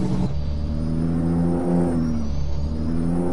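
A Peterbilt 389 truck engine revs loudly in a trucking video game, a steady, close mechanical drone whose pitch climbs as the engine accelerates, with no talking.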